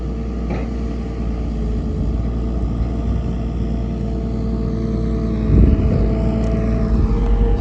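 An engine drones steadily and close, then swells louder with a brief surge as it is revved, over a constant low hum and no talking.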